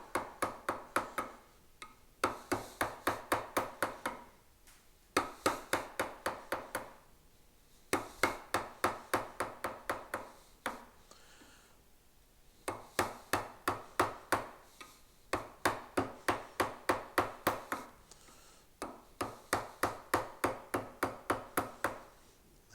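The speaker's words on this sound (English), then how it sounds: "I'm going to put the bevel down and just start to rough it out." A regular bench chisel, bevel down, roughs out a lamb's tongue detail in wood with bursts of rapid, crisp tapping cuts, about eight to ten strikes per burst separated by short pauses, close and clear.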